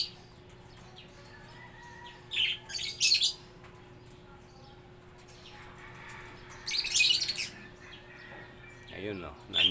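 Pet lovebirds loose on a house roof give two bursts of shrill chirping, the first around a third of the way in and the second near the two-thirds mark, with a last short call at the very end, over steady low background noise.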